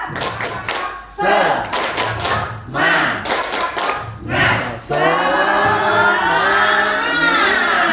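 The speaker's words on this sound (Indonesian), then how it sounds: "Coba ya, tepuk semangat." Students do the rhythmic tepuk semangat spirit clap in a classroom, with bursts of sharp group claps in a patterned rhythm and chanting voices between them. A long sustained shout follows.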